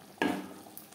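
A single quick stir of turmeric and spices frying in a pan for an aloo dum, giving a brief scraping sizzle that fades into a faint crackle.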